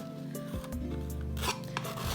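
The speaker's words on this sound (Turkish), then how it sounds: "Spatula yardımıyla içini doldura doldura bu kısımları içine dolduruyoruz" A spatula scrapes and rubs filler putty into the carved hollows of old books, soft close-up rasping strokes in short repeated passes, with no talking.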